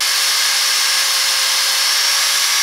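A power tool grinds down a homemade mini bike's metal foot peg, a steady, unbroken high-pitched whine with hiss lasting the whole short stretch, loud and close with no talking.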